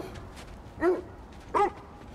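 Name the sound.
dog barking in God of War Ragnarok video game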